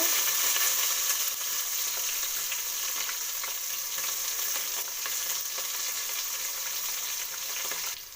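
Onion frying with mustard seeds, cumin, red chilli and garlic for beetroot sambar, a steady close broadband sizzle with faint stirring scrapes, continuous and even with no talking.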